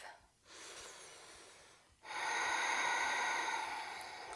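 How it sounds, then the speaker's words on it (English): Slow, deliberate yoga breathing in a gentle beginner flow: a short soft breath, then a long, louder, airy inhale and exhale close to the microphone, with no talking. "Take one more breath."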